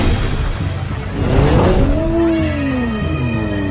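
Cartoon monster trucks race past with steady engine roar, revving and rising-pitched whining passes, continuous and loud with no talk.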